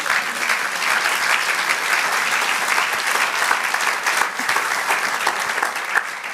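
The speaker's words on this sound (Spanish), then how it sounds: "Denle un aplauso al Señor." A church congregation claps for the Lord during a sermon, a continuous dense wash of applause holding steady and loud from start to finish.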